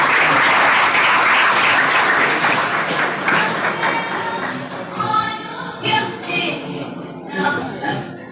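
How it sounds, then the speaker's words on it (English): A large audience applauds loudly at a university induction program welcoming first-year students in Pune, then the clapping fades into scattered claps, chuckles and murmuring voices. "Please give a huge round of applause."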